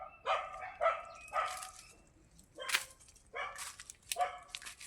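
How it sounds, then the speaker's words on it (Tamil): A dog in a village barks several times in short, irregular bursts with some yips, at a moderate distance and fairly faint. "இப்போ நாய் வேறு நான் இன்னும் குழச்சிக்கிட்டே இருக்குது."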